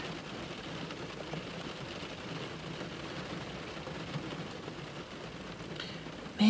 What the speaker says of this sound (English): Man, I do not like rain.